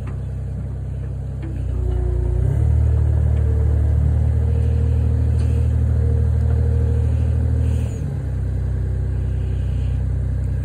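A John Deere MT tractor engine idles, then revs up to a louder, steady run for several seconds while loading onto a trailer, before dropping back to idle.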